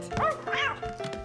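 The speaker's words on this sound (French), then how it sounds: "Chien" A dog barks three times in quick succession, close and fairly loud, each bark short and yappy.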